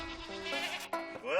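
Goats on a goat farm bleat in a quavering, nasal cry that rises and wavers, loud and close, with a second bleat starting near the end.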